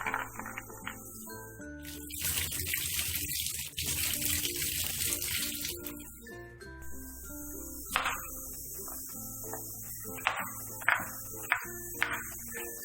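Tap water runs into a sink while ginger and garlic are washed by hand, with gushing bursts, splashes and light clinks, close and moderately quiet.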